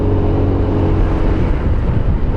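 An FKM Ranger 150 motorcycle overtakes on a mountain road with a loud, steady low engine drone and rushing wind, no rise or fall across the short stretch, with no talking.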